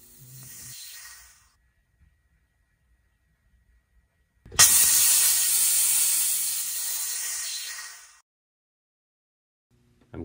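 High pressure aeroponics nozzles atomize nutrient solution into mist with a loud, steady hiss that bursts in abruptly and runs about four seconds before cutting off, preceded by a brief fainter spray.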